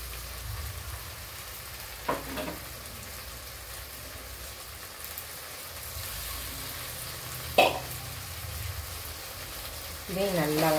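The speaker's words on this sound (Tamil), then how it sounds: "இதையும் நல்லா வதக்கி பச்சை வாசனை போகிற வரைக்கும் வதக்கி வச்சுருக்கேன்." Ground tomato paste fries in a pan with a continuous soft sizzle and crackle, broken by a few louder scraping stirs, while a voice speaks briefly near the end.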